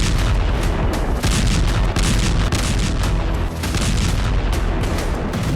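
Dense, continuous barrage of heavy booms and blasts from a Russian missile strike on Dnipro, Ukraine, loud and unbroken throughout with overlapping impacts and no voices.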